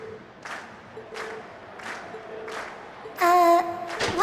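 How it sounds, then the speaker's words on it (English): Audience cheers in the video game Trails of Cold Steel, a crowd swelling in rhythmic bursts of cheering and clapping, then a louder chorus of game sound effects over the crowd near the end. "we've heard your cheers loud and clear"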